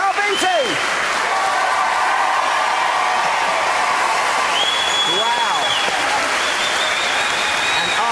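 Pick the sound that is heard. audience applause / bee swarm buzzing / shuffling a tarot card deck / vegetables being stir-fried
audience applause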